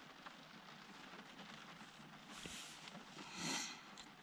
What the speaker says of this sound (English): Yeah, so that's what rain does, you guys.